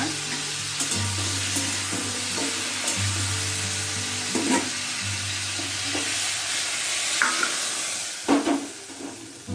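Sliced ridge gourd fries in a pan with turmeric and salt, sizzling steadily while a utensil stirs it, giving occasional scraping knocks; a low steady hum runs underneath, close and moderately loud.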